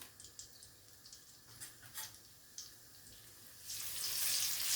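Whole cinnamon, fennel, star anise, cloves, cardamom and five or six dried red chillies frying in oil for a country chicken curry: faint scattered crackles that swell into a loud, steady sizzle near the end.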